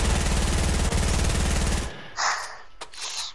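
Rapid bursts of gunfire in the Fortnite video game ring out loud and continuous for nearly two seconds, then cut off, leaving a few fainter game sound effects.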